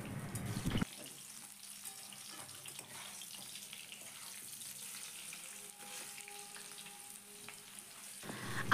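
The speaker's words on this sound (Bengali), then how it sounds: "আলুটাকে খুব ভালো করে তেলের সাথে ভেজে নিতে হবে" Potatoes with salt frying in oil in a pan for a spiced Bengali tangra fish curry, a steady soft sizzle continuing at even level throughout, with louder handling noises at the start and end.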